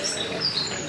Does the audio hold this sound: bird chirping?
yes